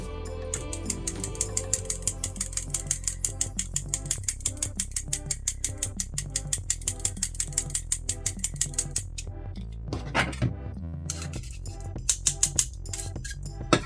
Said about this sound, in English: because we're going to add our flour and our cocoa and our baking soda. But I'm going to sift these together first.